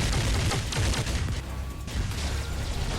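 Robot weapons fire steadily in the War Robots video game, a dense, loud rattle of shots and blasts with no clear gaps, alone without talk.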